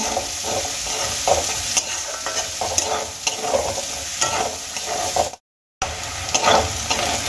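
Chopped onions frying lightly in a pan for a spicy aubergine and potato dish, a steady close sizzle with stirring scrapes, broken by a brief silent gap near the end.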